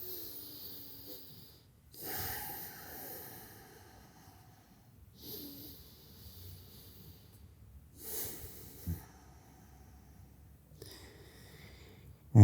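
Slow, deliberate breaths during a yoga stretch in a beginner morning flow, with soft airy inhales and exhales recurring every few seconds, close and fairly quiet, with no talking.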